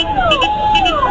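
Loud ambulance siren wailing as it passes a rally, a rising and falling tone sweeping close by amid crowd noise.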